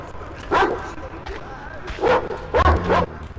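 Dog barks from the video game Metro Exodus, three or four short bursts spread across the clip, heard alongside game speech and ambient sound.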